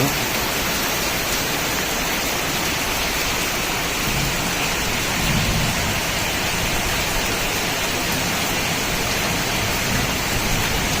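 Dense, steady rain pours without a break, a constant loud wash of noise with no voices or other sounds standing out.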